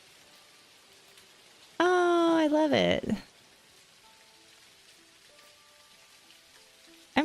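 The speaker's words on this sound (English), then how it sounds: "Ooh, it's raining." Steady rain hisses softly throughout a rainy spell in the video game Dinkum, a faint, even wash of noise that continues on both sides of a brief spoken exclamation.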